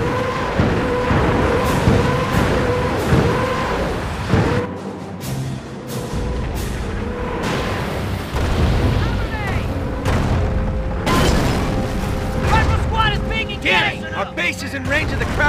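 Artillery and rocket barrages in the World War II strategy game Company of Heroes at St. Lô, repeated heavy booms and blasts, loud and close, mixed with gunfire and overlapping voices.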